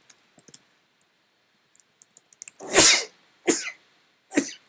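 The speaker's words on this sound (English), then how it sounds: "That's me sneezing." A loud, close sneeze bursts out after a few faint clicks, followed by two shorter sharp exhalations.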